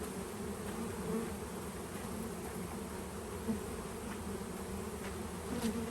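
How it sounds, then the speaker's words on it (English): A newly installed package of honeybees drones in a continuous, even hum, many wings buzzing together close by and fairly quietly, with no voices over it. "There's a lot of bees here."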